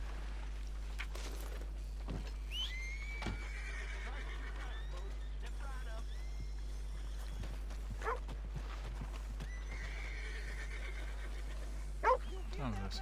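A horse in Red Dead Redemption 2 gives a whinny amid game ambience, with hoof clip-clops and a sharp thump near the end, while a person talks over it.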